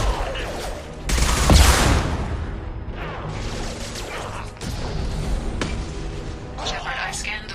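A concussive shot fired in the video game Mass Effect 2 bursts out loud at about one second, followed by crashing, mechanical combat clatter and scattered impacts over a dense, continuous game soundscape.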